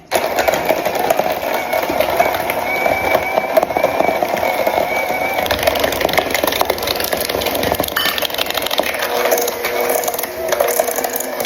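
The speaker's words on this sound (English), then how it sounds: "we're going to use our electric hand mixer to cream that butter" An electric hand mixer creams butter and sugar for sugar cookie dough, giving a loud, steady, continuous motor whir with rattling, grinding texture that runs unbroken throughout.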